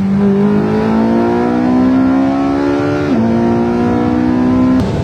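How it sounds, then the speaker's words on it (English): A car engine revving hard, its steady droning tone climbing in pitch, dipping briefly at a gear change, then climbing again, loud and close throughout. "Listen to this sound this car makes."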